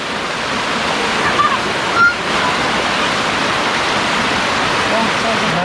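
A strong forest river at the headwaters in Khon Kaen rushes loudly and steadily, a broad close wash of water with a brief bump of handling noise near the middle.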